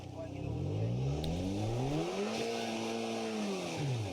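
A Škoda 4x4 car revs hard off-road, its engine pitch sweeping up and down in strong harmonic arcs and holding high, loud and close, with a voice talking over it.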